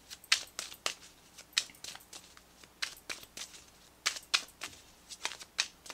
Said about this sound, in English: Let's pull you an overall additional guidance card, Cancer, for July 2019.